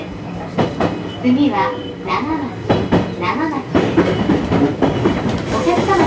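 JR East Joban Line local train running, steady rumble and rhythmic rail clatter throughout while a recorded announcement voice speaks over it.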